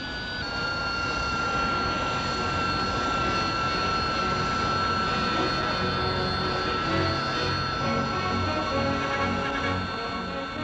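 A Hawker Siddeley Kestrel VTOL jet, the hovering 1960s British jump-jet, roars in a sustained, even engine drone with piercing whining tones riding on top, loud and unbroken throughout with no voices.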